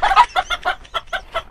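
A Polish chicken clucks in a quick series of about eight short, loud, evenly spaced bursts, close by with no talking.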